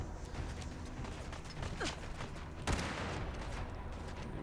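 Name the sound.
reloading Trail Carbine rifle in video game Fallout 4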